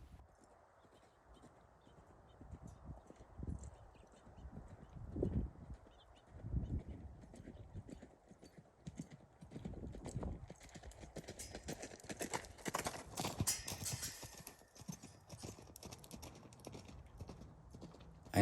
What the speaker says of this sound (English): At least her canter is smooth and consistent.